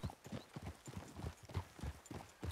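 Horse hooves clip-clop at a steady riding rhythm in a Red Dead Redemption 2 style western video game, close and distinct, quiet overall with no talking over them.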